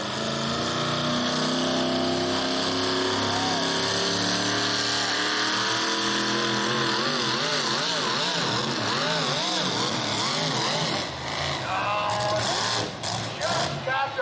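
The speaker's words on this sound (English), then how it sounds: "Got herself an S10 Chevrolet with 650 cubic inches of big block Chevrolet, making the power for her" A Chevrolet S10 truck powered by a 650 cubic inch big block Chevrolet engine, a loud revving and warbling roar that fluctuates in pitch and surges, with some talk alongside it.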